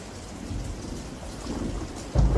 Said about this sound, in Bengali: আচমকা বাজ পড়ার শব্দে আমাদের কানে যেন তালা লেগে গেল। মেঘের গুড়গুড় শব্দ মিলিয়ে যেতেই বৃষ্টির শব্দ শুনতে পেলাম।